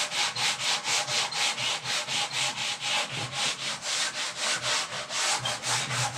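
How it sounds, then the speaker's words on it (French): Back-and-forth sanding of a wooden gun stock by hand, a steady rhythmic rasping scrub repeating about three times per second, close and fairly loud, with no voices. "il va falloir maintenant poncer."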